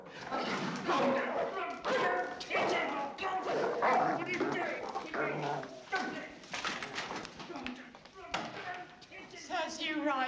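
A dog whimpers and gives short yips and barks in a film scene, nearly lost under continuous excited talking from several people close by.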